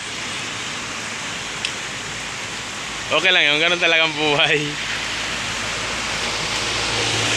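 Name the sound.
heavy rain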